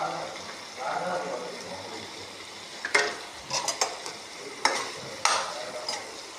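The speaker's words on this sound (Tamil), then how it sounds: "லேசாக நம்ம வறுத்து எடுத்துக்கலாம்." Paneer cubes fry lightly in a pan with a soft, steady sizzle, while a spoon stirs and scrapes against the metal in several distinct, sharp clatters.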